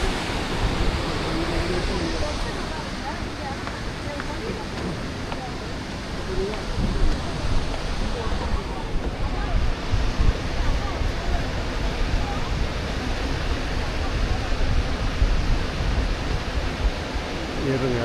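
A waterfall and river in a forest near Vancouver, British Columbia, give a loud, steady broadband rush of falling and flowing water, while a voice talks intermittently over it.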